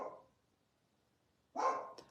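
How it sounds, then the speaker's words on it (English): A dog barks once near the start, then after a pause gives a louder, closer bark followed by a short yip, with quiet in between. "my dog's barking is starting to"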